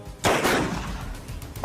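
A single AK rifle shot cracks out loud and close, followed by a long rolling echo that fades slowly.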